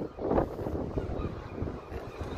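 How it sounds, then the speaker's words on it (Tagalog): Strong wind at Rønne on the Danish island of Bornholm in the Baltic Sea buffets the microphone, producing a low, rumbling roar with uneven gusts throughout and no clear voices. "Maraming hangin mga kaskay."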